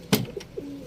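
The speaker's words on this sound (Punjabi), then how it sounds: "ਇੱਕ ਮੈਨੂੰ ਸਿਆਲਕੋਟੀ ਕਬੂਤਰ ਬੜਾ ਪਸੰਦ ਆਇਆ ਸੀਗਾ ਤੁਹਾਡਾ ਯਾਰ, ਐਵੇਂ ਚਿੱਟੇ ਜਿਹੇ ਕੰਨਾਂ ਵਾਲੇ ਕਬੂਤਰ ਵੈਸੇ ਮੈਨੂੰ ਬਹੁਤ ਪਸੰਦ ਆ" A Sialkoti pigeon, a white-eared fancy breed, gives a short close coo with a soft throaty rolling tone, a single brief call in a quiet loft setting.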